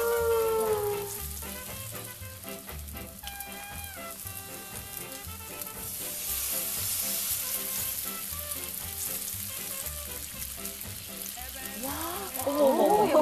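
A purple cabbage pancake fries in a pan with a steady, bright sizzle, heard under melodic background music throughout.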